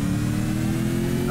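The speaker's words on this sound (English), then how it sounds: "you're revving that engine" A four-wheel-drive vehicle's engine revs in the military video game Arma 2, a steady, loud mid-pitched drone with a deep rumble underneath that holds for about a second with no talking.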